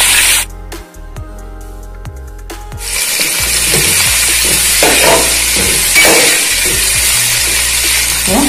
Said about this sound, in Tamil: நல்லா எண்ணெயில வெங்காயம் வந்து நல்லா பிரவுன் கலர் வர வரையும் நம்ம வதக்கி